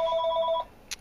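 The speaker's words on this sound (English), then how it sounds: "Sorry about the phone ringing." A telephone rings indoors, one short burst of a warbling electronic trill lasting just over half a second, then a brief click; moderately loud, with no one talking.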